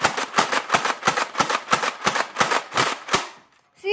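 Rapid slam-fire shots from a Nerf blaster aimed at a wall, about ten sharp snapping pops in a quick even rhythm, loud and close, then a brief silence at the end.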